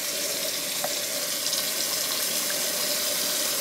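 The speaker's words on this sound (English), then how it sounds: "I'm going to fill this with water." Water from a tap runs steadily into a container, a short, even hissing pour with no talk.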